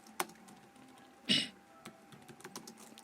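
A few close keystrokes tap on a computer keyboard while typing an HTML heading, one louder clack in the middle and lighter taps after it, quiet overall and with no talk.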